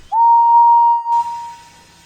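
A single long, high steam engine whistle blast holds steady and loud, then gives way to a soft hiss of escaping steam.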